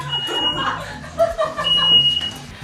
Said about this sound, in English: the fire alarm was going off